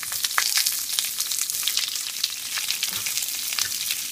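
Curry leaves and onions frying in hot oil for a bottle gourd yogurt dish, giving a steady, close, bright sizzle with small crackling pops throughout and no voices.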